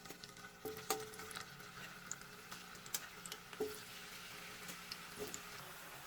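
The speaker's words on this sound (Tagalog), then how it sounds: "Ayan na, nalagay ko na yung piniprito kong kamote." Sweet potato fries frying in hot oil in a home kitchen: a steady, quiet sizzle with scattered pops and occasional utensil clicks, with no talking.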